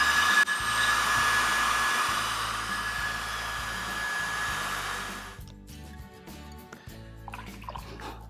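Hair dryer blowing to speed the drying of a painting, a loud steady whine for about five seconds that then cuts off, leaving faint clicks and small handling sounds.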